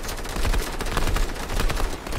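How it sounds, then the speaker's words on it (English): Fortnite gunfight with RPG fire, a loud dense barrage of rapid shots and blasts running continuously, close and intense, no speech heard. "We're being shot out with RPG."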